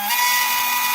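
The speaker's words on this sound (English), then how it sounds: "I'm just using a small drill bit and put some holes in" Brief steady whine of a small high-speed drill bit boring holes in beeswax foundation close by, with no talking.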